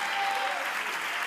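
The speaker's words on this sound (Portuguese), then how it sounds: "Se é para Jesus, a gente pode aplaudir com gosto" A church congregation applauding during a family worship service, a steady, thick wash of clapping from many people throughout, close and even in loudness.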